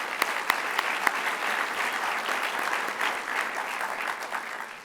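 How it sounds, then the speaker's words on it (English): Audience applause at a high school senior awards night, steady dense clapping from a crowd that holds an even level throughout with no voices over it. "I think we should clap to that."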